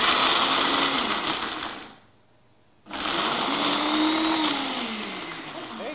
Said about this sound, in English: Gee, that blended really quickly, didn't it?